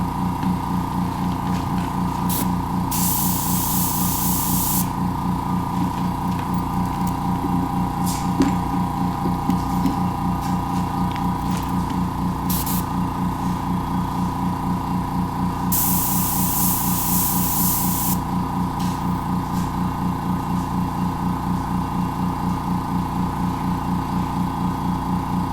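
An airbrush hisses steadily as it sprays paint onto a resin pour, with a continuous compressor drone underneath and a few louder spray bursts standing out, close and fairly loud, with no talking.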